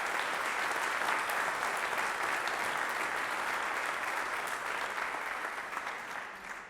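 Warm, sustained applause from a ceremony audience at a national order insignia presentation in Québec, a dense, even wash of many hands clapping that holds steady before gradually tapering off at the end.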